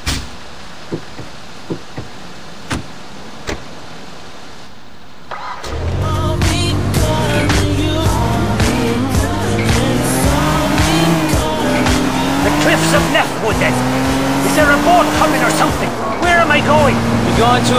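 A car engine in Grand Theft Auto IV starts roaring after about five quiet seconds broken by faint clicks, then runs loud and steady, its pitch climbing as the car speeds up.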